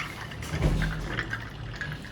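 Cold water is poured into a container for detox lemonade, a short splashing pour with a gurgling fill that trails into soft dripping, close by and alone.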